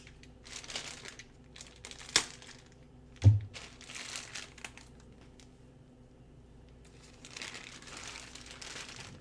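A plastic bag holding board game components for Betrayal at House on the Hill is handled and opened, giving crinkly rustling in bursts with a few sharper crackles and pauses between them.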